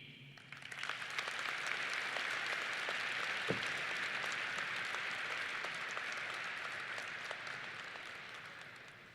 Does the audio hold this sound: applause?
yes